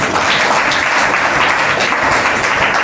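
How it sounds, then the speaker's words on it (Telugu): Loud, dense clapping from a church congregation, a continuous roar of many hands applauding close by without pause. "గట్టిగా చప్పట్లు కొట్టండి"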